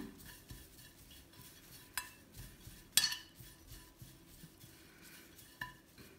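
Spoon stirring dried mint, salt, coriander and chili together in a metal bowl for a cucumber stuffing, soft scraping with scattered clinks and a few sharper knocks, close and quiet.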